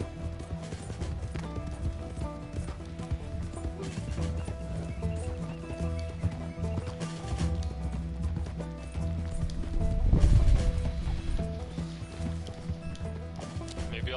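A horse in Red Dead Redemption 2 clip-clops steadily with hooves at a moderate volume, with a neigh swelling midway, over layered game sound.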